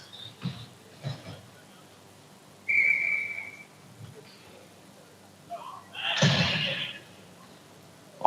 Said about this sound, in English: We'll get that whistle here automatically as soon as the player loses a helmet.